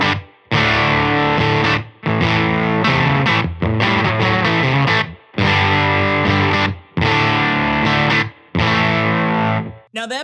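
An electric guitar runs through a Caroline Wave Cannon Zero fuzz pedal with starved voltage, giving thick, sputtering, heavily distorted chords in several loud strummed bursts separated by brief gaps, with no talk.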